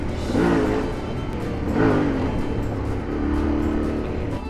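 A Yamaha Ténéré 700 motorcycle ridden off-road on a Dutch track, its engine droning steadily close by, rising and falling in pitch with throttle changes.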